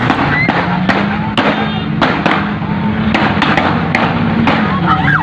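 Gunfire during a police shootout with theft suspects on the Trans-East Sumatra road at Tanjung Raja, Ogan Ilir: sharp cracks and pops burst out repeatedly at uneven intervals over a steady outdoor background with a low engine-like hum.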